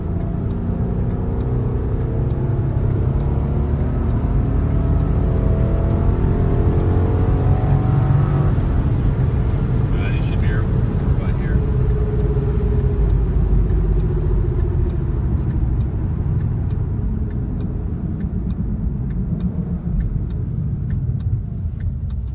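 A vehicle drives down an airport runway checking for foreign objects, a loud, steady engine rumble with tire roar that rises and gradually fades toward the end, no voices.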